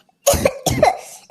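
A village woman coughs twice in quick harsh bursts, close by, with a third cough starting at the end.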